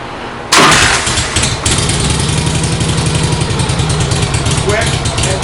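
A Harley-Davidson Panhead motorcycle with an electric push-button right-side starter fires up from warm with the spark retarded, a brief crank then a loud, steady, lumpy idle close by.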